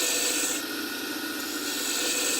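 A wooden pen blank being shaped on a lathe, a steady close scraping hiss of the cutting tool against the spinning wood, continuous and fairly loud with no talk.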